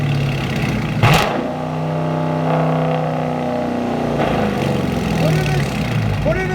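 A 2018 Dodge Challenger R/T with a resonator-delete dual exhaust revs hard, climbing with a sharp surge near the start and settling into a steady, loud engine drone with harmonic tones. Voices can be heard over the engine.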